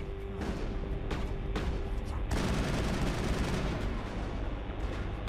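Dense, continuous gunfire during a bar shootout in the video game Mass Effect. Rapid overlapping shots and booms fill the whole stretch and intensify partway through, loud and sustained with no pauses.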